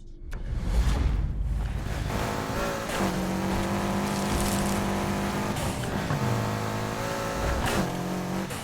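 Subaru WRX STI driving in Need for Speed Heat, a loud, close engine that revs up, holds steady tones and shifts through gears repeatedly, with a sharp burst at the start.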